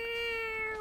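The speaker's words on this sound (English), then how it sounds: "His meows just make it sound like the world is coming to an end." A cat gives one sustained, steady meow, close and fairly loud, with no talking over it.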